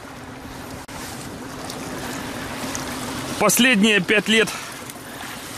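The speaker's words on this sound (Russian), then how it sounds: "слышу прекрасные звуки мотора Сузуки" A Suzuki outboard boat motor runs on a mountain river during a fishing trip, a steady low droning hum over water and wind noise, with someone briefly talking over it.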